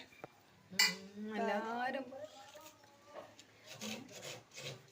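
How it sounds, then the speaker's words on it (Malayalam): Coconut being grated by hand for payasam, a rough scraping rasp repeated in short strokes with occasional metallic clinks, fairly faint and close, with a voice speaking over part of it. "തേങ്ങ ചെരവാണ് കേട്ടോ"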